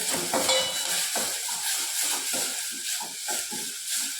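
Ginger garlic paste frying and being stirred in a pan at home, a steady close sizzle with soft scraping strokes of a spoon running throughout.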